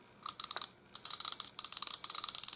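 Drag on an Okuma Avenger Baitfeeder ABF-55b spinning reel clicking in fast rattling bursts, close and fairly quiet, pausing briefly between each run, no talking.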